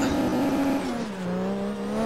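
A racing car engine in a racing video game holds at full throttle, one loud steady drone whose pitch dips briefly and then climbs again, with no voices over it.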